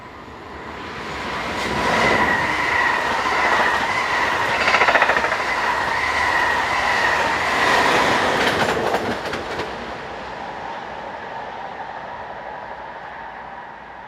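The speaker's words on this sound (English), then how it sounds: "Here 1921 is working what would normally be a Class 18 diagram, with a train for Genk, seen passing through the station at Würzburg." Locomotive 1921 hauls a passenger train through Würzburg station, a loud close rumble with wheel clatter and a steady tonal whine swelling as it passes, then fading away.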